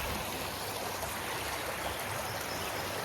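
A warm-water river flows steadily from a hot spring near Digne-les-Bains, a continuous broadband rush of water over stones, close and evenly loud throughout with no voices.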